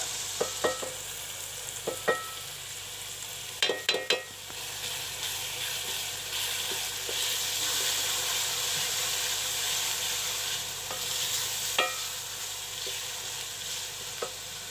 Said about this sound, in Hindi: अच्छे से इसको भून कर इसकी अच्छे से ग्रेवी बना लेंगे